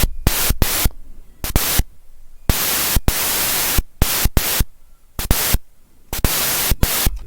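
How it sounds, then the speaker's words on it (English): Loud bursts of harsh white noise hiss switch on and off in a choppy rhythm, alternating with quieter gaps, like a gated synth layer in a future house track made in FL Studio Mobile. "Layer a bunch of white noise."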